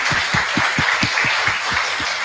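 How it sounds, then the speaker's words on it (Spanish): Audience applause closing a masterclass, a steady wash of clapping with a regular low thumping pulse running beneath it, fairly close and sustained throughout. "un aplauso para Roberto."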